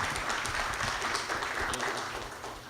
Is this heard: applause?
yes